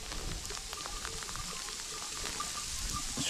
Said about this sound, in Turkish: Dolu gibi bulgurcuk gibi başladı bakın.